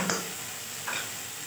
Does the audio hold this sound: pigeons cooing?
no